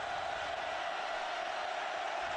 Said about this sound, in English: Crowd really revving it up.